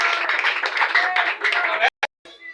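Church congregation applauding at a service, dense sustained clapping with voices mixed in, then a sudden cut to near silence before a short burst of sound returns.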